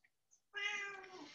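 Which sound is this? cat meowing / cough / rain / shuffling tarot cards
cat meowing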